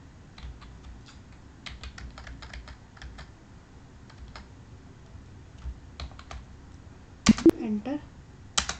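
Light, close clicks of a computer keyboard tapping out an amount in Tally ERP 9, in short irregular bursts, with a voice speaking near the end.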